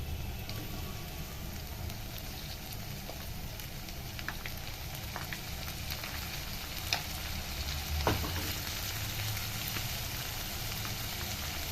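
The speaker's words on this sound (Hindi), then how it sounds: "इसमें डाल रहे हैं अब हम टमाटर।" Tomatoes fry with ginger, garlic and browned onions in a pan for a kohlrabi and potato curry. A faint continuous sizzle carries occasional light clicks and a stir or two, all quiet and close.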